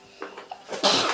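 A single sharp sneeze bursts out near the end, loud and close, after a few softer breathy sounds, indoors during a family Christmas gift-opening.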